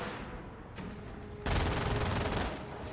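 Infantry gunfire in the Company of Heroes strategy game, a rapid crackle of rifle and machine-gun shots that bursts louder halfway through into a dense sustained volley, then tapers slightly.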